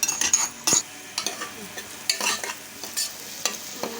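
Lentils being stirred and dry-roasted in a pan, a spoon scraping and rattling the grains in quick irregular strokes, close up over a faint sizzle.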